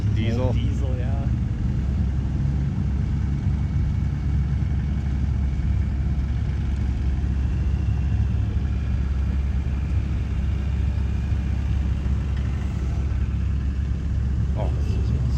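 A diesel car pulls away from a car show, its engine a continuous low rumble close by while people talk over it.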